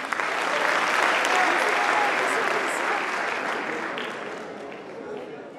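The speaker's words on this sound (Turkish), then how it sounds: "Bir alkış alalım." A room full of people breaks into loud, sustained applause that swells early and slowly eases off, with faint voices mixed into the crowd noise.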